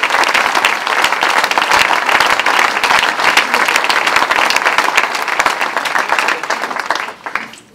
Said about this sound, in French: On peut applaudir toute l'équipe de la majorité.